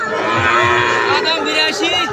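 A Sahiwal calf moos loudly in a sustained, close bellow, with faint crowd murmur in the background.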